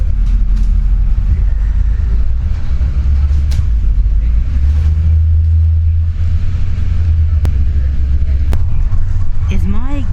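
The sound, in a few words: car driving during a ride-service trip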